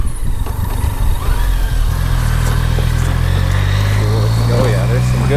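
A BMW K75S motorcycle that sat unused for ten years idles steadily with a low, even engine drone, loud and close, while it puffs smoke from the exhaust.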